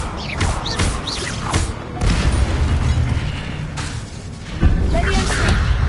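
Incendio fire spell cast in Hogwarts Legacy, a series of loud fiery bursts, thuds and whooshing blasts in quick succession, with a voice calling out spells amid the impacts.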